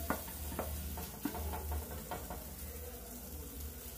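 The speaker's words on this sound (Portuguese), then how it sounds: "Vou botar pra dourar." Bacon browning in a pressure cooker, giving a soft steady sizzle with light stirring taps and scrapes in the pot, close and fairly quiet, with no talk.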